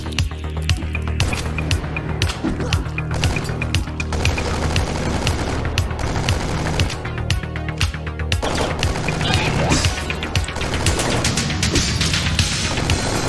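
Dense, continuous video game gunfire crackles in rapid bursts over booming low rumbles, loud and relentless throughout, from a Kyle Rittenhouse shooter game on Steam with zombie enemies.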